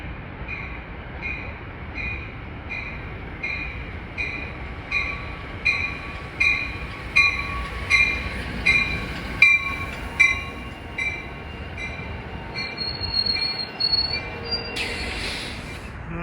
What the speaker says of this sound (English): approaching his train 64 from Port Jervis to Hoboken, piloted by French Onion Soup